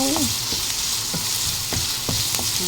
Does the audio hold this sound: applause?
no